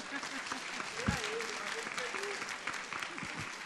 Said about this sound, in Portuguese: Uma salva de palmas ali, ó.